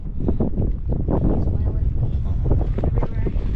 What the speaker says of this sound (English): The wind's starting to blow and starting to hit.